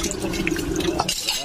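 Raw shrimp being washed in water for buttered garlic shrimp, with close running and splashing water under a steady low hum and talk throughout.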